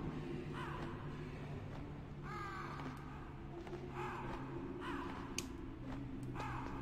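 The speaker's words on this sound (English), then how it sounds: "Those birds sound like a human voice actor trying to do bird noises." Bird calls from the Metal Gear Solid game on PlayStation repeat every second or so, short rising chirps over a steady low ambient hum, fairly faint and with no talk.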